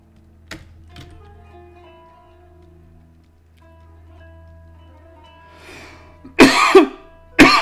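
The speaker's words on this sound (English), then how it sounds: "I've just got this lingering cough." A person with a lingering cough lets out two harsh, loud coughs close by, after a few faint clicks and a low steady hum.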